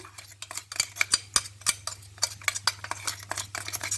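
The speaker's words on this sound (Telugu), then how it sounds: "ఈ కారాన్ని దీంట్లో నేను తాలింపులో వేస్తున్నాను" Chili powder is stirred into a hot tempering in a pan for bitter gourd karam, with a quick, rhythmic run of close metal spoon scrapes and clinks against the pan and no talk.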